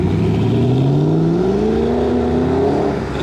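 Shelby GT500 car accelerating close by, its engine note rising steadily in pitch over a few seconds, loud and continuous before easing off at the end.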